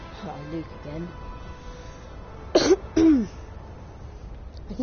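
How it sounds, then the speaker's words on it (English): A man clears his throat and gives a couple of short coughs close to the microphone during a live Star Wars Battlefront game stream, with faint voices underneath. "I keep coughing for some reason."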